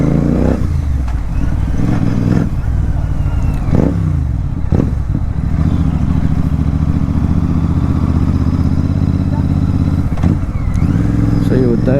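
A loud Royal Enfield GT 650 motorcycle engine drones steadily close by, with a deep continuous rumble and a few sharper revs and clatters, while someone talks over it.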